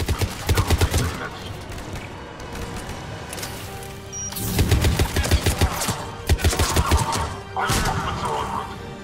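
Gunfire in a battle from Mass Effect 3 comes in loud, rapid automatic bursts, with clusters of sharp shots and crashes over dense combat noise, and voices talk beneath.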